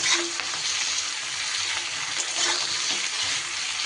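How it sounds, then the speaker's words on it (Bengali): Eggplant, tomato and winter vegetables frying in a pan while being stirred, a continuous hissing sizzle with occasional scraping strokes, close and steady with no voices. "সবজির মধ্যে যতক্ষণ জলটা আছে একটু ভালো করে নাড়াচাড়া করে নেব"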